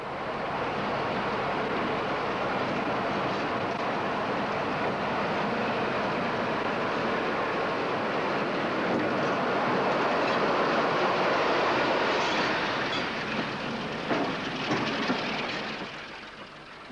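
Class 45 Peak diesel locomotive 45133 passes signals near Butterley at a 1991 diesel gala, with a sustained loud rumble and roar of engine and rolling wheels that builds slightly and then eases toward the end.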